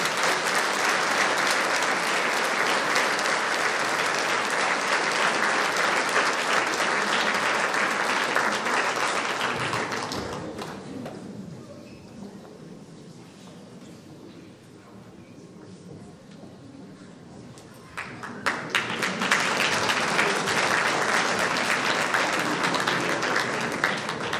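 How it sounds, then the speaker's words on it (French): Audience applause at a local awards ceremony for volunteers and athletes, a loud sustained wash of clapping that drops away for several seconds to a quieter room before surging back just as strong. "On peut les applaudir très fort."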